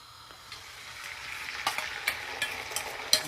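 A spoon stirring eggs in a pan over a gas flame, with repeated scraping strokes in a loose rhythm over a steady frying sizzle, growing more distinct toward the end.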